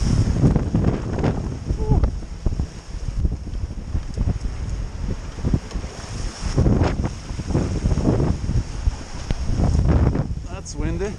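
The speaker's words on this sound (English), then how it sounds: "That's windy." Strong wind gusting and buffeting the microphone on a small sailboat during winter sailing in Norway, with rushing water and roaring bursts rising and falling throughout, while someone speaks intermittently.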